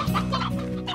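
A rooster in the video game Slime Rancher gives a short, close run of clucks, clear and on its own.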